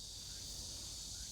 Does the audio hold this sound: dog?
no